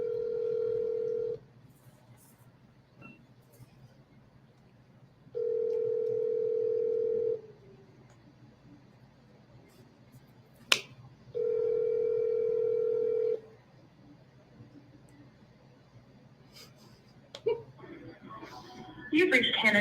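A phone call rings out on speakerphone, with three long ringback tones of about two seconds each separated by pauses, faint in a quiet room, and low sounds of movement near the end.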